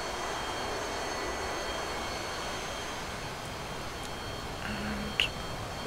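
Twin jet engines of a YF-12A/SR-71A Blackbird idle in DCS World, a steady broadband roar with a high whine holding evenly throughout, with one brief click near the end.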